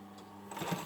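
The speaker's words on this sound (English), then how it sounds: "I'm just doing like a little edge stitch, top stitch around this pocket" A sewing machine runs a short, close burst of edge topstitching around a patch pocket on the front of a hoodie, starting halfway through after near-silence.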